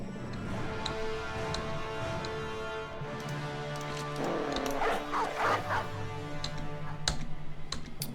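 Hounds bark in short repeated bursts while chasing orcs in a video game, over a busy bed of game music and clicking effects; no one speaks.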